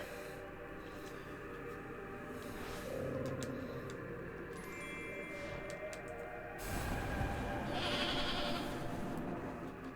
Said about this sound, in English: Again, with the obvious goat noise.